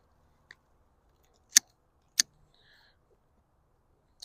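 Pruning shears snip mature peach tree branches in a quiet orchard, two crisp close cuts about half a second apart, plus a couple of faint clicks.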